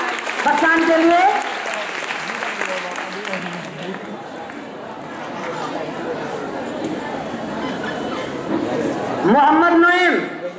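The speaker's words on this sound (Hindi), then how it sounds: "जोरदार तालियां बस्तान के लिए" Clapping fills a hall during a school prize distribution for a 2018 general knowledge competition, a steady wash of applause under an amplified announcer's voice at the start and end.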